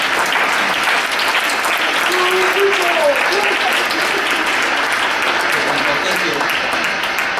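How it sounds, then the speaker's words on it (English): A school Christmas program audience gives a loud, sustained round of applause that fills the whole stretch, and a voice speaks briefly under the clapping. "So, let's give an extra loud round of applause"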